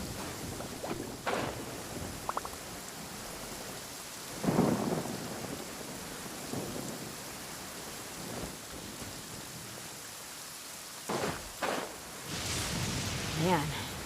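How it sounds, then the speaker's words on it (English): Stormy weather in Genshin Impact, steady rain with several rumbling thunder rolls and sharp cracks spread across the stretch, some loud and close, with a voice speaking briefly in places. "Man, this thunder is loud"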